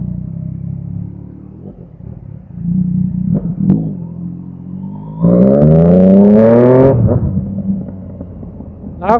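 Yamaha Tracer 900 GT motorcycle with quick shifter, engine idling and blipping before opening up into a loud rising rev with climbing pitch, then dropping off, heard up close with no talk.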